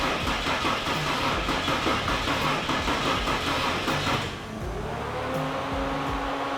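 A car engine is cranked by its starter with a rapid, rhythmic churning for about four seconds, then the sound shifts to a steadier running tone, loud and close, with no talking.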